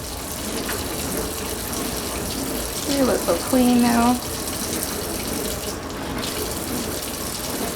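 Water runs steadily from a faucet close by, a continuous hiss with a brief spoken remark over it midway.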